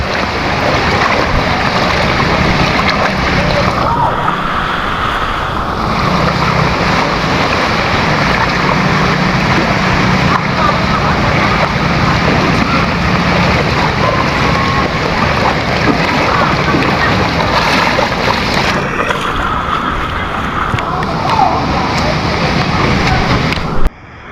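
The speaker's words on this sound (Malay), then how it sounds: "Air dia laju tu." Fast-flowing floodwater rushing through the flooded streets of Parit Sulong town makes a loud, continuous roar and wash, heavy with wind buffeting, sustained for the whole stretch.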